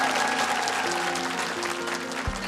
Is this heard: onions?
no